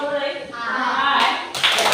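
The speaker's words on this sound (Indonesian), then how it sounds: "kita berikan tepuk tangan untuk kelompok" Classroom applause for a student group, children clapping in a short burst that rises toward the end, following a teacher's voice at the start.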